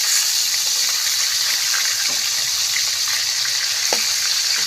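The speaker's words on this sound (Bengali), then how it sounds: "আমি এইভাবে সুন্দর করে চিকেনগুলো উল্টায় পাল্টায় ভেজে নিব" Large pieces of chicken deep-fry in hot oil while being turned, giving a constant, even sizzling hiss with a couple of faint taps from a utensil and no voices.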